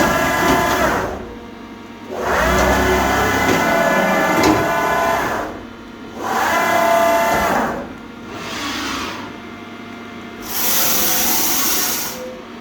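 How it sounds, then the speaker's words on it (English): A CNC milling machine under a retrofitted controller runs rapid X-axis moves at 15 meters a minute, loud whirring passes separated by brief lulls, with the way covers banging at the ends of travel. "The banging you're hearing is the wake covers as they're coming up and down, hitting the bottom."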